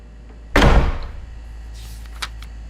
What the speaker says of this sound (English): Shut the damn door!